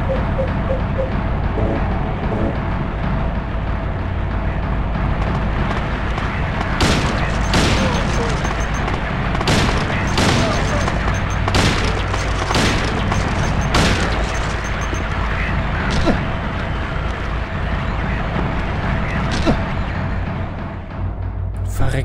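Repeated sharp pistol gunshots crack over a busy game soundtrack in Silent Hill 2, fired in irregular bursts with booms and rumbling background noise throughout.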